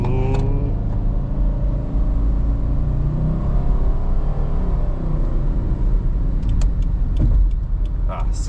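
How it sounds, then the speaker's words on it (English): A car with a CVT transmission drives along with a steady low engine drone and road rumble, a smooth even whir without distinct shifts, and a few clicks near the end. "CVT transmissions. They sound so neutered."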